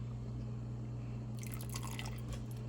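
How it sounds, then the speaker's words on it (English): A splash of red wine is poured into a simmering tomato sauce for meatball subs. It comes as a short, soft liquid trickle over a steady low hum from the stove. "a little splash of red wine"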